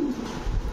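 A female racer pigeon gives a single brief, soft, low coo, close by and on its own.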